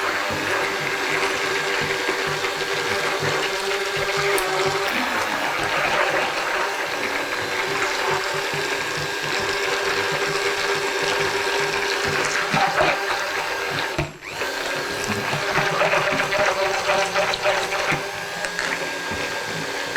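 A mixer blending kirsch mousseline cream runs in a steady, loud mechanical whir with a brief dip near the end, heard alone without talking.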